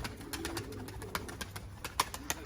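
Pigeons coo softly among scattered wingbeats and short bird calls, fairly close, with no talking.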